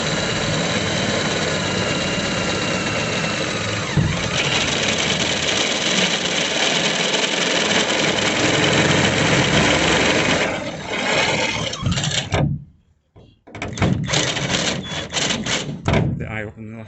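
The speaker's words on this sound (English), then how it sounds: "I call it a cone drill bit" Cone drill bit grinds steadily through a metal panel on a 2019 Peugeot Boxer van during conversion, a loud continuous whirring that runs for about twelve seconds, stops briefly, then resumes in short bursts.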